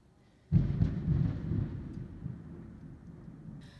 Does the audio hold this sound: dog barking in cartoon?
no